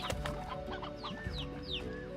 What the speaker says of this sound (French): ont l'air d'aimer ces petites poules que je viens de choper